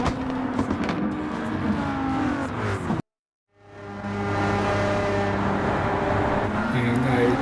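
A 2018 Nissan GT-R Nismo race car in Gran Turismo 7 drones loud and steady on track, cuts out abruptly for a moment, then swells back as the engine builds again with a sustained whine.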